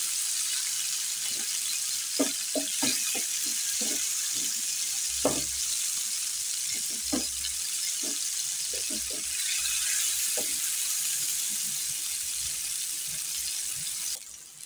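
Chopped onions sizzle steadily in a hot pan for a mushroom dish. A constant hiss runs throughout, broken by scattered light clicks and pops from stirring or utensils, with no talking.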